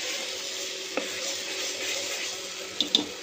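Pav bhaji masala frying in oil in a pan, a soft continuous sizzle with a couple of faint clinks near the end, brief and close.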